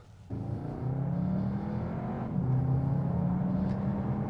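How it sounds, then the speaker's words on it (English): A 2022 Cupra Formentor VZ310 in Cupra mode pulls away hard, its loud exhaust rising in a strong, close roar that swells and holds for several seconds with no talking. "Makes the exhaust sound louder and should just make it more fun"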